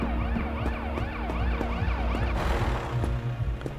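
A wailing emergency vehicle siren sweeps up and down steadily and loudly inside the survival game Road to Vostok, set in Finland, with rumbling ambience beneath and a harsher noisy burst near the end.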